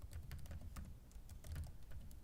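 Fast, quiet clicking of a computer keyboard being typed on, irregular keystrokes continuing throughout at low level.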